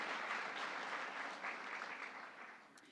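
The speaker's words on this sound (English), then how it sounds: "you can applaud." Audience applause at the White House Tribal Nations Summit, a steady wash of many hands clapping throughout, fairly even and sustained, slowly tapering near the end.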